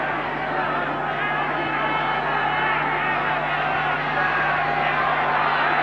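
A large rugby league stadium crowd of about 27,000 roars in a steady, dense wall of cheering and chatter in a 1995 match, loud and sustained, under a commentator's voice.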